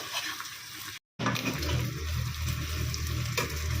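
Chicken pieces frying in a pan, a dense, continuous sizzle with a watery crackle that fills the whole clip apart from a brief gap of silence, close and fairly loud with no talking.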